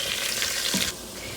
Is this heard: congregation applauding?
no